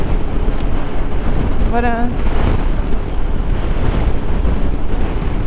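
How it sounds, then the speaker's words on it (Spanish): A strong crosswind buffets a motorcycle on a Patagonian coastal road during a historic storm, a loud, constant roaring rush of wind over the microphone, with someone speaking briefly over it. "Me acaba de agarrar un viento cruzado en una curva"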